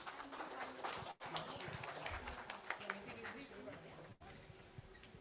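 A large conference audience applauds to welcome a company president to the stage, dense steady clapping filling the room with some background chatter and a couple of brief dips.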